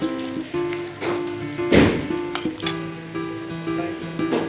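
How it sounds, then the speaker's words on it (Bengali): Onions fry in oil in a kadai with a continuous crackling sizzle and occasional stirring, heard under steady background music. "এখন কড়াইতে তেল দিব, কিছু পেঁয়াজ দিয়ে দিই, নেড়ে চেড়ে একটু পেঁয়াজগুলো ভেজে নিই।"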